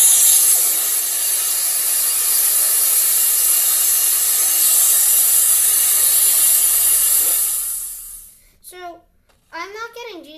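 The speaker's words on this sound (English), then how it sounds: "It's an atomic breath, obviously" Atomic breath attack from the mech Kiryu in Roblox Kaiju Universe, a loud, sustained hissing blast that roars steadily for about eight seconds and then cuts off, followed by a short spoken voice.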